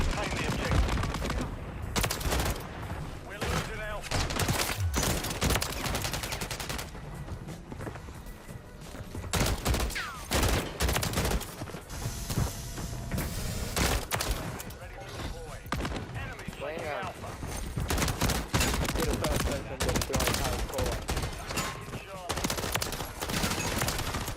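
A DG-56 burst rifle fires on a firing range in the video game Modern Warfare 3: loud, rapid, close bursts of gunfire repeated almost continuously, with someone talking over the shots.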